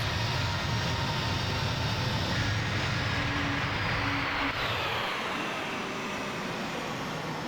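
Simulated C-17 Globemaster III jet engines in Microsoft Flight Simulator 2020 drone steadily as a broad, loud roar that eases off slightly toward the end, with no talking.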